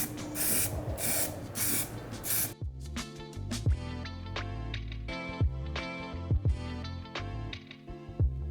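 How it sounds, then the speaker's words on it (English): Spray can laying down primer paint in layers, several short hissing bursts close by, followed by quieter background with scattered light knocks and clicks. "Now let's get started with the primer. I'm going to spray multiple layers until it's evenly coated"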